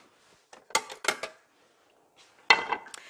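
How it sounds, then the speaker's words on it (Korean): Plates and utensils clink as a finished stir-fry of bok choy in sauce is served onto a plate, a few sharp clustered knocks separated by a quiet pause, close by with no talking. "자, 접시에다 담아낼게요."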